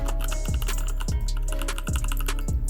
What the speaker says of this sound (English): let's take a listen to these key switches